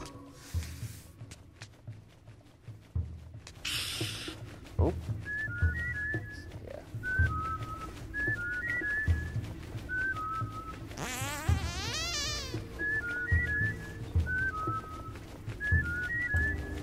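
Native Mudokons in the video game Oddworld New 'n' Tasty trading short melodic whistle phrases, repeated bright chirpy figures at moderate volume over ambient game sounds and buzzing, with a brief louder sweep midway.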